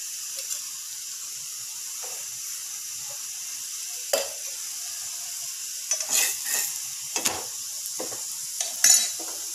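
Puran poli, a Maharashtrian sweet flatbread, sizzles softly in oil on a hot pan, a steady gentle hiss with occasional light scrapes and taps of a utensil.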